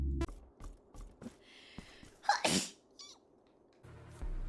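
Someone lets out a single loud, close sneeze midway through, surrounded by quiet clicking and mechanical ticks, with no talking.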